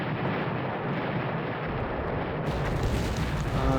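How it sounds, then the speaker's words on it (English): Artillery bombardment in the wartime strategy game Battle Academy 2, set on the Eastern Front in December 1941, a dense continuous rumble of distant shelling that swells louder partway through and holds without a break. "looks like someone is bombarding us"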